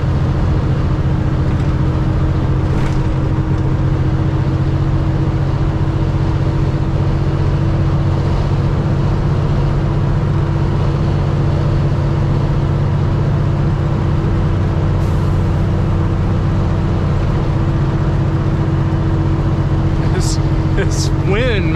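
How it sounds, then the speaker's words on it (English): Strong gusty wind buffeting a moving car on sharp mountain curves, a loud continuous low rumble of road and engine with roaring wind noise throughout, and someone talking over it. "This wind, man, you're on these sharp curves and you're changing direction with the wind blowing like that"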